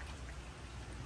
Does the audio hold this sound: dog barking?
no